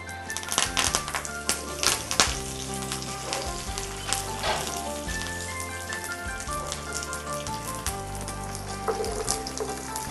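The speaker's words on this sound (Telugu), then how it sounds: "ఆవాలు, జీలకర్ర, కొంచెం మెంతులు వేసుకొని కొంచెం వేగిన తర్వాత" Mustard seeds, cumin and fenugreek fry in hot oil for a spicy tamarind-ginger dish, a close crackling sizzle peppered with sharp pops and spits throughout.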